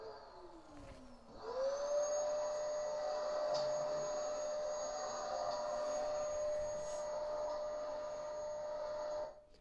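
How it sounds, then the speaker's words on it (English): A vacuum cleaner spins up and runs steadily, a broadband rushing roar topped by a sustained high whistle, then cuts off at the end. "This is a vacuum cleaner."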